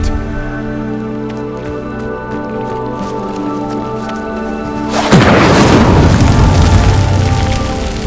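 Fire spell igniting a pyre in Hogwarts Legacy: a sudden loud whooshing burst of flame that flares after a calm stretch and keeps crackling to the end.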